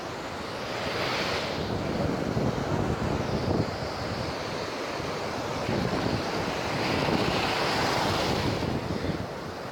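Atlantic Ocean surf breaks on a beach in a continuous wash of waves, swelling and easing in slow surges. Heavy wind buffets the microphone throughout, and no one speaks.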